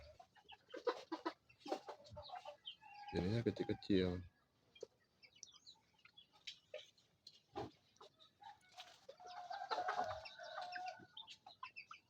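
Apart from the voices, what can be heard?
small chickens clucking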